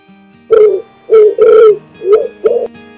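A pigeon coos five times in soft, rounded bursts, close and fairly loud, with short pauses between calls over a faint background melody and no speech.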